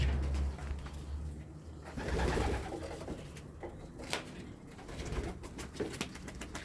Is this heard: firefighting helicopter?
no